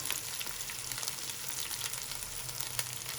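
Green chillies fry in oil for a sabzi pulao, giving a quiet, continuous sizzle with fine crackling pops throughout. No one talks.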